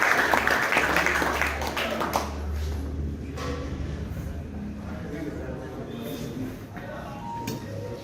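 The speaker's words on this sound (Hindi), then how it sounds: "पुनः एक बार तालियां बजाकर उनका स्वागत।" An audience at a Hindi poetry gathering claps briefly to welcome a poet, a dense burst of applause in the first couple of seconds that fades out, followed by someone speaking.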